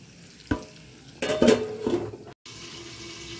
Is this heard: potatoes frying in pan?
yes